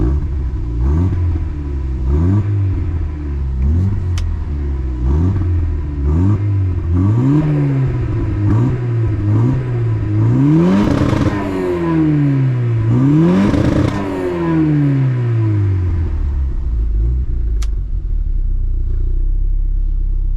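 A tuned Mercedes engine with a stainless steel double exhaust and deep exhaust note is revved repeatedly, rising and falling in pitch with several sharp blips, loud and close.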